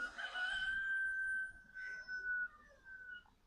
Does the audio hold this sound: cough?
no